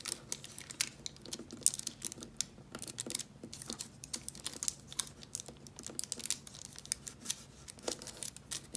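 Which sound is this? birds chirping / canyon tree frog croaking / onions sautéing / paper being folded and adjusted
paper being folded and adjusted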